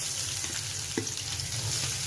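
Chopped small onions go into a hot pan with dried red chillies for dhaba-style dal, giving a steady sizzle with one brief clunk partway through.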